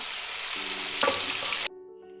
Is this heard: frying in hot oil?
yes